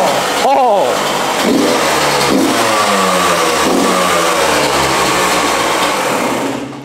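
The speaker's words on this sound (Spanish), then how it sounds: "Echaba de menos escuchar un buen dos tiempos" A two-stroke motorcycle engine revs hard and high-pitched, rising and falling in repeated bursts, loud and close, with a brief voice near the start.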